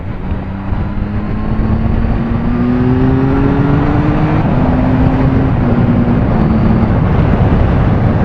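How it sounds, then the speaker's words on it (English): Loud, close engine drone from a 2018 Triumph Tiger 1200 XCA motorcycle accelerating, pitch climbing steadily through several gear stages under heavy wind rush, with no talk. "It spins up quick, and it certainly accelerates really well."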